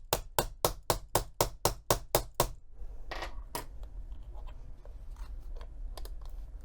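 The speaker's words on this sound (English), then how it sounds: "bring out the hammer tool" A hammer strikes a snap setter tool fitting a snap on a cork eyeglass case: about ten sharp, evenly spaced metallic taps, close and loud, then faint handling noise with a couple of isolated clicks.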